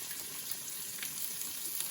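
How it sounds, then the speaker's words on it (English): Diced bacon sizzles in a hot pan, a quiet continuous crackling hiss with faint pops, no talking. "you want to hear that sizzle right away"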